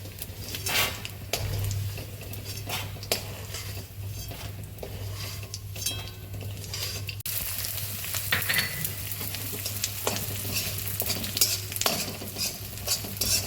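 Edible gum (gond) frying in very hot ghee for Khambhat halvasan: a loud, steady close sizzle under constant stirring, with a utensil scraping and clinking against the pan.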